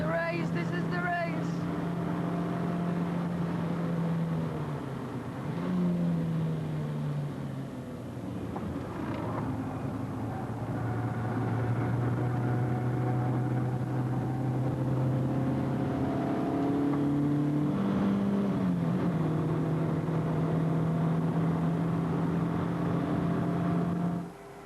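Racing cars in a motor race, with engines droning steadily for the whole stretch, their pitch rising and falling as they pass through corners and gear changes, several engine notes overlapping.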